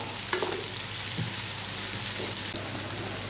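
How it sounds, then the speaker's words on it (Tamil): Onions sautéing in a pan for a spicy Tamil chutney, producing a steady, close sizzle and crackle with a little stirring and no voices. "வெங்காயம் நல்லா வதங்கட்டும்"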